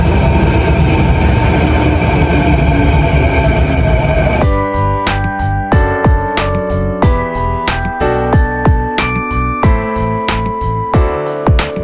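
Inside a train in Japan, a loud rumbling rolling drone gives way to rhythmic clacks of wheels over rail joints and a steady tonal hum as the carriage moves along.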